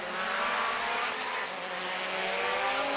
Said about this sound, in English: Real hard on the braking zone there as he comes by the announcer booth.